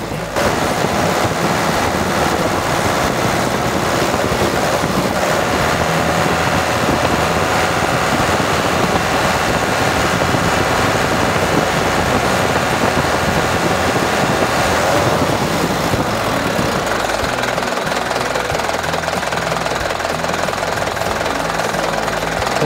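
A Mitsubishi Canter truck's diesel engine idles after a fuel filter change, a loud, steady broadband rumble that continues without stopping, with a faint whine fading partway through and no voices.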